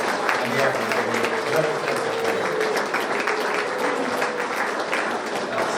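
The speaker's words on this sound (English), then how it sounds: "would you give those young lads, please, a big round of applause" A big round of applause at a GAA club dinner dance for the young players, loud and sustained, with a murmur of voices in the room beneath the clapping.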